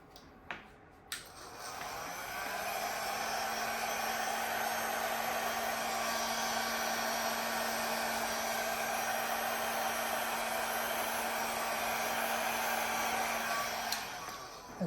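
A steady, loud rush of blown air, like a hair dryer, runs for over ten seconds onto acrylic Dutch pour paint. It starts after a couple of soft clicks and cuts off near the end, with no talking.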